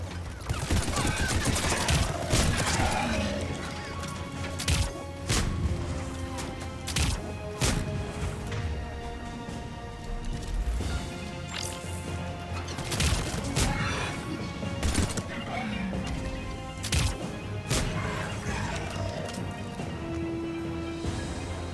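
Avenger assault rifle fire in Mass Effect 3 during a battle on Earth or Mars, repeated sharp bursts and crashes spread across a long stretch of busy combat sound with music underneath.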